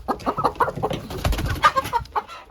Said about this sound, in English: keep the chickens off